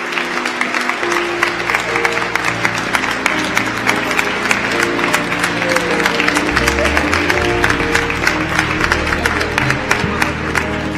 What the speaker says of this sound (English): Let's give this servant of God another standing round of applause.